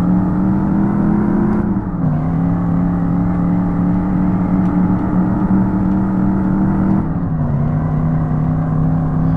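A ute engine in the PC racing game Revhead drones steadily at high revs, dipping briefly with each gear change, loud and continuous with no talk.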